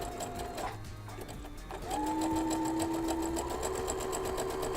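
A sewing machine fitted with a braiding foot stitches in close-up, a rapid mechanical whirring and ticking that pauses and restarts, then runs steadily with a rising motor whine.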